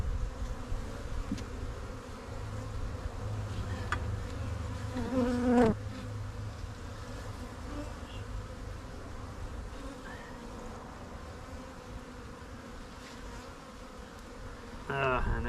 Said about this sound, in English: Just a tiny little cluster of bees from a tree.